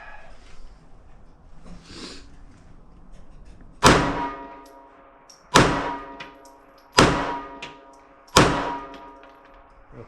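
Four sharp, loud pistol shots from a Ruger Security-380 firing 90 grain hollow point rounds at a range, spaced about a second and a half apart, each with a ringing decay, after a quiet stretch of low background noise.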